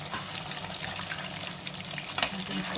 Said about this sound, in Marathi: हे मॅरिनेट करून अगदी वेळेवर सुद्धा तळून घेऊ शकतो